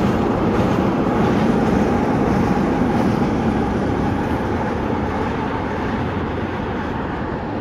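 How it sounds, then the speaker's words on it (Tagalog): A train rumbles past at night, heard from a residential rooftop deck. It makes a loud, continuous broadband roar that holds steady throughout and fades slightly toward the end. "May train. Yun, train."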